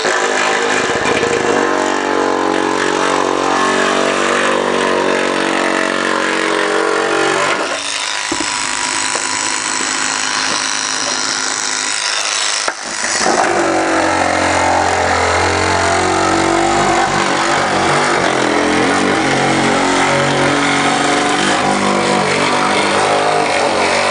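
A well-worn Bosch power tool cuts aluminum sheet for a Jaguar E-Type bonnet, a loud, steady, continuous whine with a brief shift in tone partway through and no talking.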